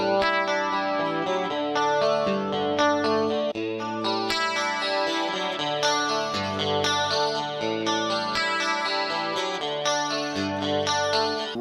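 Fender Stratocaster played clean through an MXR Rockman with a shimmering chorus effect, a steady run of chords and ringing notes that stays at an even, full level for the whole stretch with no talking.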